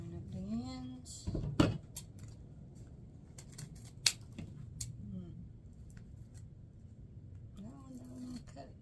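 Scissors trimming the ends of 21-inch mesh on a spring wreath give sharp, sparse snips and clicks spread across the clip, with brief voices in the background.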